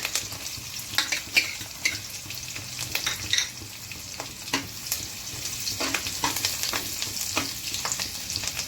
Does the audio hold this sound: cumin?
yes